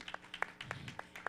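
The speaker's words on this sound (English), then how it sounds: "Let's have a round of applause for her." Scattered applause from an audience at a panel discussion of women journalists and activists: a handful of sharp, distinct claps in an uneven rhythm, faint and thin, with no talking over them.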